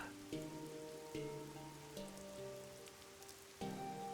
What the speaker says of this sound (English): It's going to rain all day today, tomorrow, and every day after that.